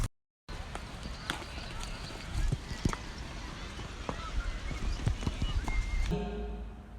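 Horse hooves clopping on a dirt path down to Saif ul Malook lake, irregular near thuds at a steady walking pace beneath a person talking, with the camera jostling.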